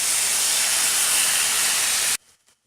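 Tuna sisig mix with ginger hitting a hot pan bursts into a loud, dense hiss of sizzling that holds steady for about two seconds, then cuts off abruptly.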